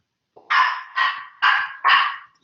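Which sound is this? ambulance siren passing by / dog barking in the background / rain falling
dog barking in the background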